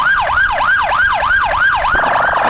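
A loud emergency siren wails in rhythmic rising and falling sweeps, about one cycle every third of a second, then switches to a faster warbling yelp near the end. It is close and sounds alone with no voices.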